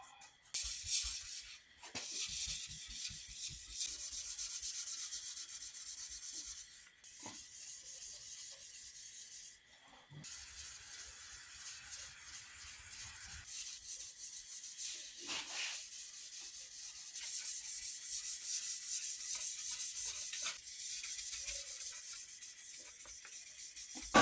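Light hand sanding of welded sheet metal with 600-grit paper during rust repair, a steady soft rasping rub that runs almost continuously with brief pauses, close and moderately quiet, no talking.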